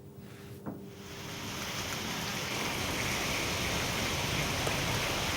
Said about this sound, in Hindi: कटनी में हो रही झमाझम बारिश